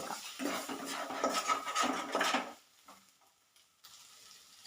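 Spoon stirring masala with curry leaves in a hot pan while squid roast is cooked, a steady scraping, sizzling rustle for over two seconds that then drops to faint, sparse scrapes.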